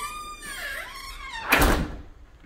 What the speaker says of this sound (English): Got a barn door entry.